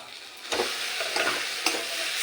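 A stuffing for pointed gourd (kankrol) with turmeric, green chilli and ginger paste sautéing in a pan, giving a close, steady sizzle with a few scraping stirs, with no voices.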